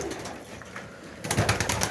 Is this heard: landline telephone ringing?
no